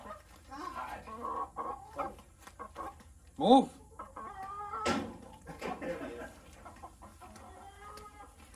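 Chickens cluck and squawk close by on a farm in Live Oak, Florida, one loud rising call standing out, while people talk intermittently nearby.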